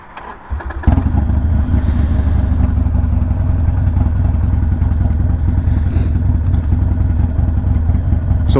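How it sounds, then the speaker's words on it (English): Harley-Davidson Sportster 48 fitted with a Two Brothers exhaust and a fresh remap fires up after a short crank, then settles into a loud, steady, lumpy idle that rumbles on close by for several seconds. "the bike just seemed to start up a lot easier. And if you can hear that now, the idle of that."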